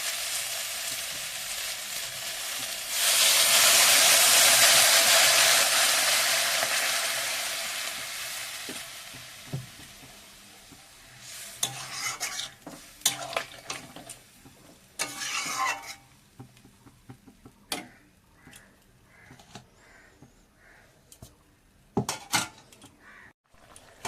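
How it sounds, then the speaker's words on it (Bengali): Eggplant and potato sizzle loudly in a hot pan for several seconds, then the sizzle fades into a run of scraping, clattering stirring strokes close by. "বেগুন আর আলুটা একটু কষিয়ে নেব।"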